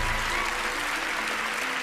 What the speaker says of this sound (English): please give a big round of applause for Bill